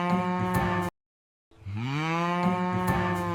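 A cow moos in two long, loud, drawn-out calls separated by a short silence, with no talk over them; the moos are part of a children's farm animal sounds song.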